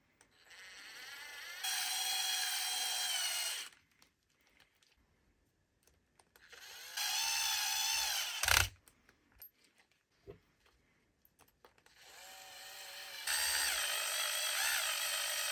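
A power drill drives screws into a Tekno SCT410 2.0 RC truck during its build. It whines steadily in three separate bursts of about two seconds each, close by, with short quiet gaps and small handling noises between them.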